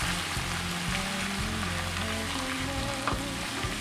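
Garlic ginger paste fries in hot oil for a chicken tikka biryani, a steady dense sizzle with soft stirring scrapes, close and continuous throughout with no talk.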